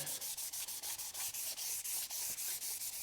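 A Kurt machinist vise being hand-sanded with 1000 grit sandpaper: quick, even back-and-forth rubbing strokes repeat in a steady rhythm, close and clear, with no talking.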